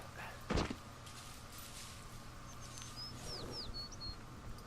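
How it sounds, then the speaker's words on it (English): Birdsong in a forest in the video game Firewatch: a few short chirps and whistled notes near the end, moderately near over a steady ambient hum, with a brief low thump early on. "I like the bird sound"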